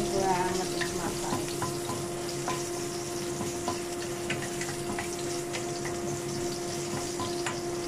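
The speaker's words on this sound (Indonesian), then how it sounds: "Terus ini ditumis ya, bawang putih sama jahe sampai harum." Garlic and ginger sauté in a pan, giving a steady, close sizzle throughout with faint scraping and stirring ticks and no talking.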